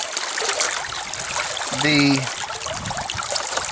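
Water running over the riffles of a gold sluice at a Georgia claim, a continuous close trickling and splashing flow, heard under someone talking.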